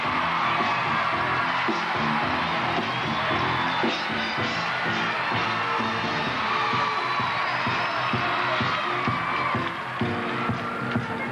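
Arena crowd at the 2001 Big Ten women's gymnastics championships cheers, whoops and yells loudly and steadily throughout, a dense continuous roar of many voices after a bar routine.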